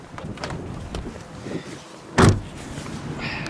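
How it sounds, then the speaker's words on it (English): A 1998 Jeep Grand Cherokee's hood is released: one sharp, close latch clunk stands out against quiet garage ambience, with a few faint clicks and handling noises around it. "let me just pop the hood here"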